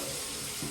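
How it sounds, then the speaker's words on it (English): Hot water pouring steadily from a tap into a bucket, a continuous close rushing splash with no voices. "we're gonna put some hot water and then I'm gonna stir the mix up."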